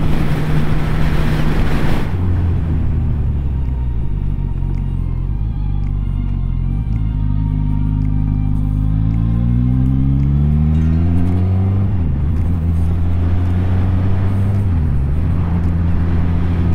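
A Suzuki Katana motorcycle engine drones loud and close while riding in sixth gear, with rumble and wind noise and an engine note that rises and falls smoothly throughout.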